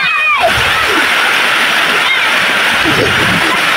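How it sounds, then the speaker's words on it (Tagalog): Strong rushing water at the top of Pinsal Falls in Sta. Maria, Ilocos Sur, a steady loud broadband roar filling the whole clip, with brief splashy bursts and people talking faintly underneath. "Ang lakas ng agos ng tubig"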